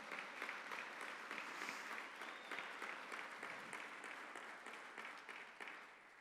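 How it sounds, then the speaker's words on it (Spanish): A church congregation claps together in a long, even round of applause, faint and distant, with the rhythm holding steady throughout and no voices on top. "¿Cuánto le dan fuerte aplauso al Señor?"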